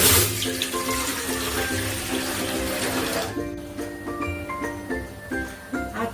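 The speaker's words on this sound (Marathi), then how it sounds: "आता आपण हे इडलीचे भांडे घेतलेले आहे ह्यामध्ये पाणी घालून घेऊया" Water poured from a tap or vessel into an idli steamer pot, a continuous splashing fill with ringing metallic tones, loud and close, alone without talk.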